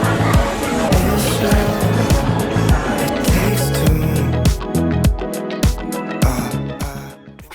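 A car driving home at night, its engine and road noise loud and close throughout, with shifting tones and rhythmic thumps, and no talking.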